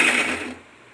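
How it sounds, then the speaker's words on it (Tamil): A kitchen mixer grinder whirs briefly as it pulses tomatoes, a short loud burst of blade noise that cuts off abruptly and leaves near silence. "ஜஸ்ட் ஒரு 2 பல்ஸ் மட்டும் விட்டுட்டு ஆஃப் பண்ணிக்கலாம்."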